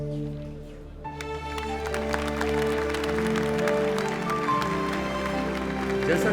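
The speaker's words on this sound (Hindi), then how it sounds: "जैसा कि आप तालियों से समझ सकते हैं, विक्रम लैंडर ने सफलतापूर्वक रफ ब्रेकिंग फेज पूरा कर लिया है" Applause breaks out in ISRO mission control after the Chandrayaan Vikram lander completes its rough braking phase, a sudden burst of clapping that starts about a second in over a sustained tonal background hum and stays steady to the end.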